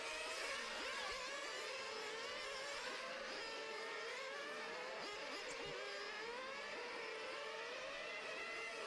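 Internal-combustion radio-controlled GT8 cars racing on a track during a European championship qualifying session, a steady loud whining drone of several high-revving small engines overlapping and shifting pitch as they pass, continuous throughout.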